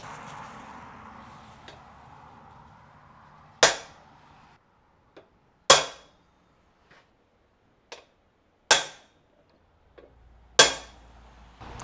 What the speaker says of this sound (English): I'll bring the punch over here and punch them so I don't lose them marks